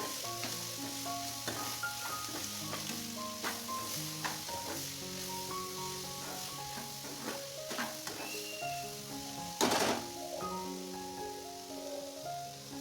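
Fish roe, boiled beforehand with salt and turmeric, frying in a pan for a fish and cauliflower curry, giving a steady soft sizzle beneath prominent melodic background music, with one brief louder burst partway through.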